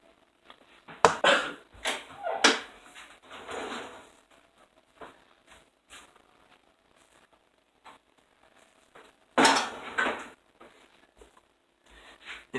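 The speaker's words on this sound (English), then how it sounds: "Now crack that egg." An egg is cracked at a kitchen counter while making sandwiches: sharp, close taps and crackling shell sounds come in clusters, with a burst of rustling cracks later, separated by quiet stretches.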